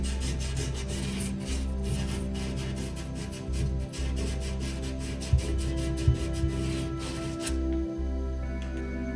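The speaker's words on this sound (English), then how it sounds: "Now I just need to clean up the rough edges with a little bit of sandpaper." Sandpaper rubbing over the rough edges of a vivarium part for a dart frog enclosure, a steady close rasping scrape that runs nearly continuous under a low background hum, stopping near the end.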